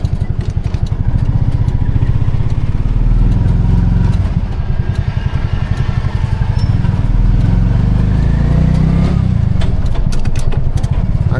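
A Piaggio Ape City three-wheeler engine runs loud and close, a rough, rapidly pulsing single-cylinder chug with a rattling mechanical clatter, holding steady through a slow U-turn with slight dips in pace.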